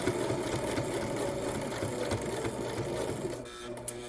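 A sewing machine stitches lace onto a heart-shaped Valentine patch, a steady, moderately quiet whir and needle patter running throughout, with a small click near the end and no talk.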